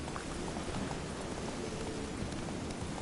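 Heavy rain pours in The Witcher 3, a dense, continuous hiss of falling drops with a steady, even intensity throughout.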